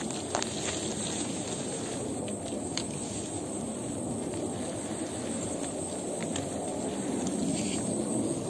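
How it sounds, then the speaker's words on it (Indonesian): Strong wind sweeps across the Mount Lawu hiking trail via Singolangu, a loud continuous roar and buffeting hiss that stays dense and unbroken throughout, with no voices. "Ini suara angin menakutkan yang pernah saya dengar."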